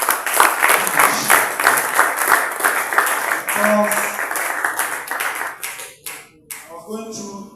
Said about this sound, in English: give a round of applause to the professor that just finished